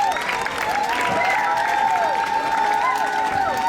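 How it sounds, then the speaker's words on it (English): An audience at an abacus interactive day claps for the teachers, steady applause with some cheering and children's voices mixed in, while high whistle-like tones sweep over the crowd noise. "So please clap for all the teachers and Eva."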